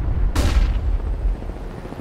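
A flashbang grenade detonates in Counter-Strike, a single abrupt bang followed by a short hissing decay over low rumbling ambience.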